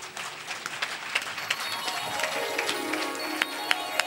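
An audience at a Gujarati religious katha discourse on Purushottam Charitra breaks into sustained, moderately distant applause, with scattered sharper claps standing out from the steady clapping.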